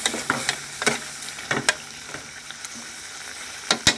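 A spatula scrapes and stirs pork with red curry paste, long beans and kaffir lime leaves in a hot pan, rhythmic clacks over a steady sizzle, close and moderately loud.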